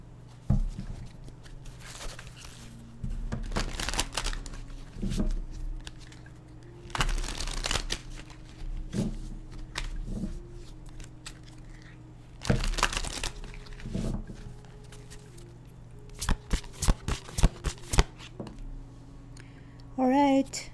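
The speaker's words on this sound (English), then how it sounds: "I'm just going to throw one more card to see what would be that additional message for you." Tarot cards are shuffled and drawn at close range, with bursts of riffling and flicking, papery crinkles and sharp card snaps spread through a quiet room, and a series of quick flips near the end.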